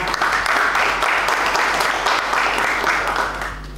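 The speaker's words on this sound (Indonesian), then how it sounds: "Tepuk tangan dulu semuanya." Steady classroom applause from a group of students, dense and even clapping that holds at a constant level for a few seconds before easing slightly.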